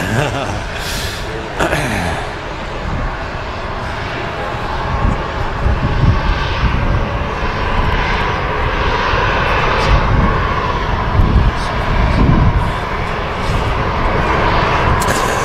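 A loud Etihad airliner on final approach at Manchester Airport rumbles steadily throughout, a broad continuous engine roar with a few faint voices and chuckles mixed in.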